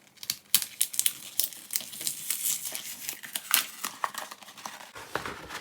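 Plastic packaging around a stationery folder crinkles and rustles up close in quick, irregular bursts of crackling as it is unwrapped, with brief pauses between handfuls.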